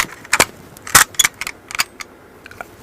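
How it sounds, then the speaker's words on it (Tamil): Foley pistol shots for film are made by striking everyday objects, producing a few sharp metallic cracks and clicks in a quick cluster, close and loud, with faint rattling after. "இப்போ ஒரு படத்துல இந்த பிஸ்டல் சவுண்ட் வருது"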